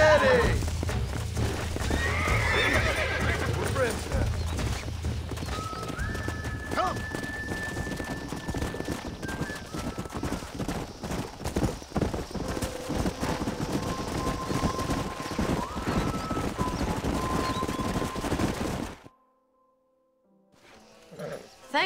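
A horse whinnies several times over steady clip-clopping hooves in Red Dead Redemption, with game ambience and some voices mixed in, before the sound cuts out near the end.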